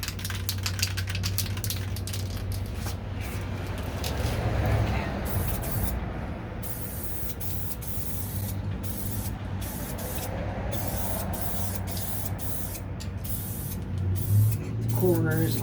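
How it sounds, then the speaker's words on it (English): A spray gun lays a primer coat on the door of a 1969 C3 Corvette. A continuous hiss sits over a low compressor hum. Brief pauses break the spray near the middle and toward the end. "So I can always come back and just put another little layer of primer right there."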